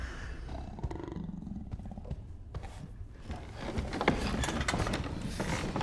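A fierce tiger roars loudly inside a house, with deep growling bursts that swell and build toward the end, no speech over it.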